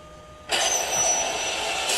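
A car engine catches abruptly in a film trailer, a sudden loud broadband roar that settles into a steady close idle after a quiet lead-in.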